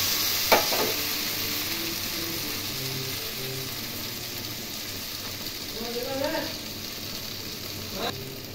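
Fried taro and potato being stirred with spices in a pan: a steady low sizzle with scraping strokes and a few clinks from the pan, while a person talks over it.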